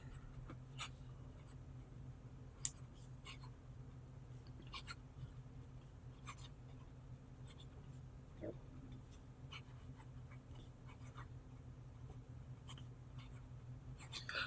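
A Diplomat Magnum fountain pen with a fine steel nib moving across paper, giving a faint, close scratching with small irregular ticks as strokes and letters form, over a low steady room hum.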